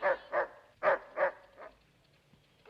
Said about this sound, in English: at that silly old dog chasing birds